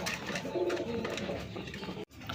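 Rajgolla pigeons, a red checker pair, coo softly and steadily nearby for about two seconds, with no voices.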